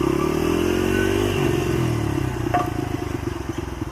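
A small motorcycle engine runs on dirt trails, holding a steady drone that shifts pitch as it revs down and then picks up again, close by and with no voices.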